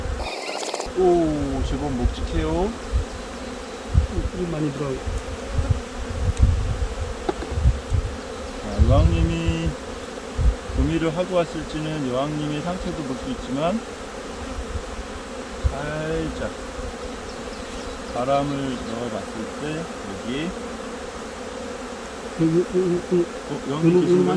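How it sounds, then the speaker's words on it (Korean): Honeybees swarm and buzz in an opened hive box, a dense, steady drone with shifting pitch that runs throughout, close and fairly loud. "속벌이 굉장히 많죠"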